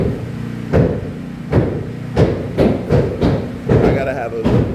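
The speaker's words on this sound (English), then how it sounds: "All that hammering you see in the upstairs." Hammering upstairs at a new house construction site during the floor and roof truss stage, with sharp, loud blows roughly every half second to second, ringing out at a steady working rhythm.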